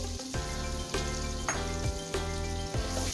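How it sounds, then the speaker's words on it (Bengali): Chopped onions fry in oil left from frying pointed gourd, a soft bubbling sizzle under a steady hum, with a few light stirring knocks at intervals; close and fairly quiet. "এখন আমি পটলের তেলের মধ্যে পেঁয়াজ কুচিগুলোকে দিয়ে দিব"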